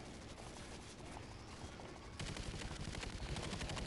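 Rapid automatic gunfire aimed at an alien creature in Call of Duty: Ghosts Extinction, a dense continuous burst of shots that grows louder and denser partway through, with no voices over it.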